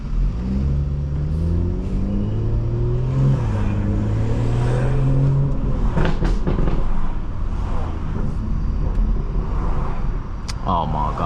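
A BMW 440i drives along in traffic, its engine droning and shifting pitch as it accelerates, with sharp crackling exhaust pops bursting out near the end; a voice talks over the engine.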